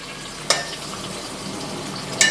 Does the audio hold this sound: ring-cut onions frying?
yes